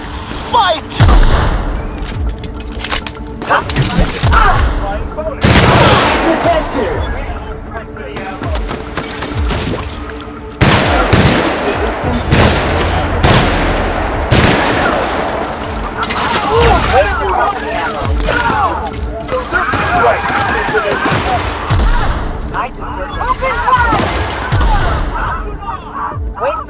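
Sustained battle gunfire from The Outer Worlds final mission on Tartarus, with dense bursts of shots and thuds running nearly nonstop, loud and close, mixed with game voices.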